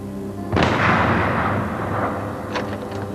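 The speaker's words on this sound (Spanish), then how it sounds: "el hospital Alexian reverberó con un sonido atronador parecido a un disparo" A single thunderous, gunshot-like bang echoes through a hospital, hitting loudly with a sharp onset and then rolling into a long reverberant rumble, followed by a fainter second crack near the end.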